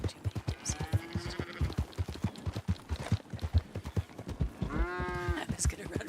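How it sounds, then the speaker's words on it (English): A cow in the RedM video game gives two drawn-out moos, one faint and one louder, over a fast steady clip-clop of hooves, with brief talk in between. "I was gonna run right over that cow"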